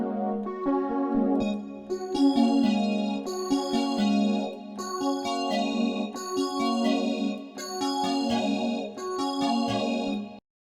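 DX7 V FM synthesizer playing a repeated chord pattern whose bright, bell-like tone shifts as the algorithm is changed, sustained notes in clear rhythmic blocks with no voices.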